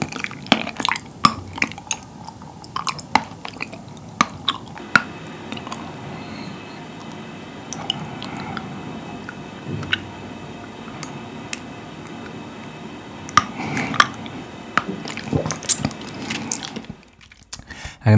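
Popping boba with a strawberry flavour is chewed close up, giving wet squishy clicks and small slippery pops throughout, with no talking.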